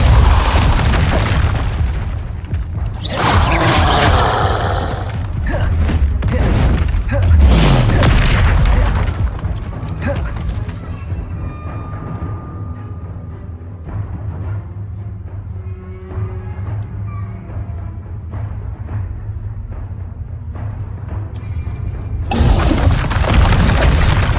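Fire and blasting spell explosions in Hogwarts Legacy on PS4 Pro, a string of loud booms and crackling bursts with rumbling tails and brief lulls, ending with another heavy blast.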